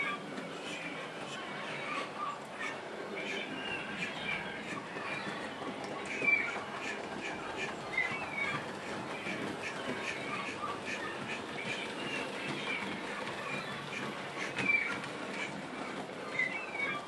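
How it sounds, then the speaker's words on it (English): A T9 steam locomotive, number 30310, hauls the first down passenger train into Egloshayle station on a spring morning, a steady broadband rumble of wheels and running gear at moderate distance with a few brief louder peaks and birds faintly behind. "this is now running into Egloshayle behind T9 number"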